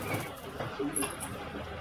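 Pigeons coo softly at close range in a kabootar sale setting in Patiala, low burbling calls blended with background noise and a faint voice.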